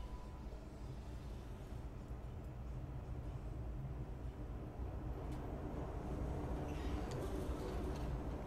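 Steady low rumble of a moving train in a video game, continuous broadband noise that swells slightly toward the end, with no clear talk over it.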